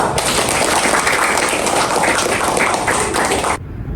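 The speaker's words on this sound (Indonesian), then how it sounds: "kita beri dulu aplaus" Dense, steady applause from a seminar audience in a lecture hall, loud and close, filling the room without pause before cutting off abruptly.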